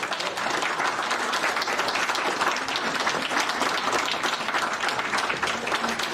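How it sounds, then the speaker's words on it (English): An audience at the close of a talk on science and AI breaks into sustained applause, a dense, even clapping that fills the whole stretch without a break. "let's bring this to an end and a big round of applause"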